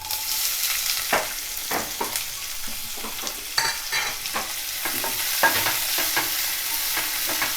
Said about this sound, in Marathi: आणि हा चांगला आता कांदो लालसर होईपर्यंत परतून घ्यायचा.